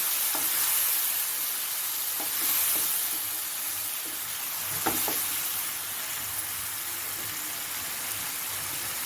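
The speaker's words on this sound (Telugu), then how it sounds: "ఈ టమాటో ప్యూరీ కూడా పచ్చివాసన పోయేదాకా ఆయిల్లో ఫ్రై చేసుకోవాలి." Tomato puree frying in oil for a Guntur-style prawn curry gives a continuous soft sizzle and hiss, with occasional stirring taps and a faint crackle under the steady frying.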